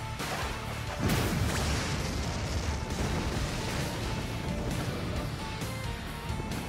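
A dense, continuous roar of cartoonish missile blasts and crashes from the anime Fairy Tail, loud and unbroken, swelling sharply after the first second.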